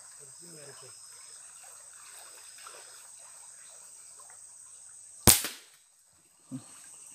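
A single loud gunshot cracks out in a forest during an imperial pigeon hunt, with a sharp decay and a faint knock shortly after, over a steady high insect drone and faint distant voices.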